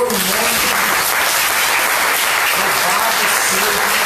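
A church congregation applauding, steady dense clapping throughout at close range, with voices faintly mixed in.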